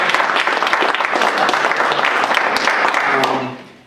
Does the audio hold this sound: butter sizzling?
no